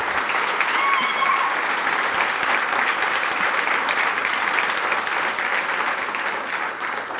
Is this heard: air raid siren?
no